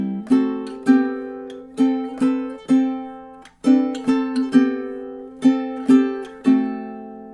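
Fingerstyle ukulele melody of plucked single notes and small chords in a steady, lilting rhythm, each note ringing and decaying, played alone and close with no voices.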